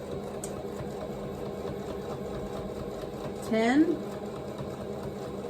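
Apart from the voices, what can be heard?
sewing machine stitching a fabric Easter basket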